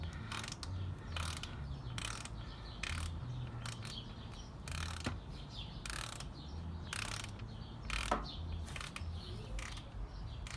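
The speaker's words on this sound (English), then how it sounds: "About to torque the transmission drain bolt." Ratcheting torque wrench tightening the transmission drain bolt on a 2018 Harley-Davidson Fat Bob 114, a series of sharp mechanical clicks in uneven bursts, close and fairly loud, with no talking.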